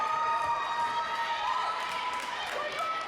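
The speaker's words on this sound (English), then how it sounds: "they're cheering on Grace" Fans of Totino-Grace cheer from the stands at a high school girls' volleyball match, a thin, steady crowd of voices carrying on at a moderate distance.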